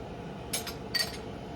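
A hot bowl of shrimp-ball noodles is set down on a hard surface, making two brief, faint clinks about half a second apart.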